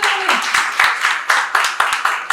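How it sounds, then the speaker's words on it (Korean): An audience claps to welcome an author at a book talk event on investing, giving steady, evenly spaced claps close by that keep a quick, regular rhythm throughout. "박수!"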